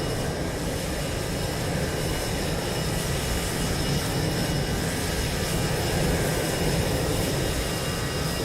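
A Ryanair passenger jet takes off nearby, a loud, steady broadband engine roar that holds constant throughout with no talking over it.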